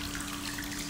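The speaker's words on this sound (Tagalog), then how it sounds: "yung gripo, ang tagal mong palabasin yung tubig" Water runs steadily from a faucet in a hot spring hotel in Nasu, Japan, a constant close hiss of flow with no pauses.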